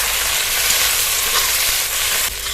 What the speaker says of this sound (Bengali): টমেটোটা 1 মিনিট একটু ভেজে নেব